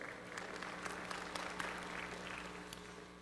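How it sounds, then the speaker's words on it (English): A church congregation claps together during a Sunday service, a steady, moderately distant patter of many hands with scattered sharper claps, continuing throughout with a low hum underneath. "Yeah, well, go ahead and clap."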